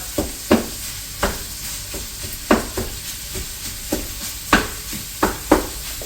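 A spatula chops and scrapes sausage in a hot cooking pan for Thanksgiving cornbread stuffing casserole, giving sharp, irregular clacks every half second or so over a soft continuous sizzle.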